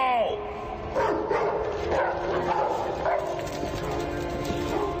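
Several dogs bark and yip in short, repeated bursts close by, with a soft whimper mixed in, over a steady background and some talking.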